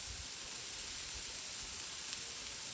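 Food sizzling on a Nexgrill griddle from Home Depot, a steady quiet hiss of frying that runs without a break and is heard alone.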